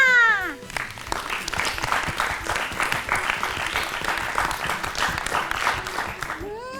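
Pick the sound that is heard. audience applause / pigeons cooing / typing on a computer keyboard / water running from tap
audience applause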